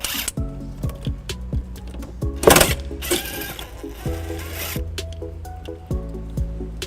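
A plastic trim cap on a 2006 Toyota RAV4 is squeezed and pulled free, giving one brief, sharp plastic pop near the middle, with steady background music throughout.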